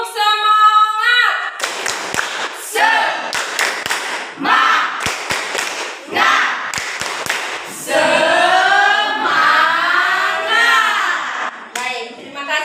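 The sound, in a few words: children doing a rhythmic spirit clap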